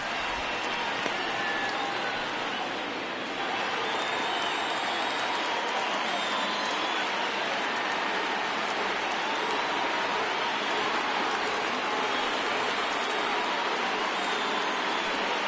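A stadium crowd of over 39,000 in the MLB 19 baseball video game cheers in a continuous dense roar that holds steady throughout with no break.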